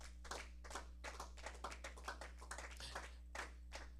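Church congregation applauding during a worship service, steady dense clapping from many hands with irregular sharper slaps over a constant low hum, sustained for the whole stretch.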